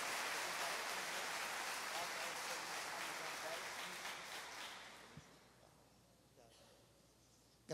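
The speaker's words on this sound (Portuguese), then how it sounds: "Vamos dar um aplauso pela vida do pastor Jorge." A church congregation applauds at a men's seminar, a dense, loud wash of clapping that gradually thins and fades away over several seconds, leaving quieter room tone with a few scattered last claps.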